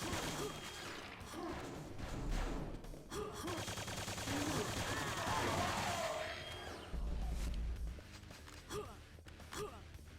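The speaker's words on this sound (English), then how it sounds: "Ooh, a super shotgun." A super shotgun fires in Quake II on the Switch, with heavy blasts coming in quick bursts that stay close and loud. Muffled underwater and game noises run beneath the shots.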